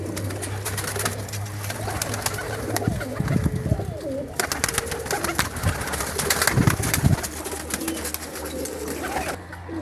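Flying pigeons kept in the compartments of a rooftop loft coo continuously in overlapping low throaty calls, with rustling and fluttering mixed in nearby.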